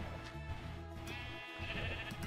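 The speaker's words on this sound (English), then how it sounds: "Oh, the sheep is like in the water." A sheep in the Minecraft video game standing in water bleats clearly over a steady, mid-level game background.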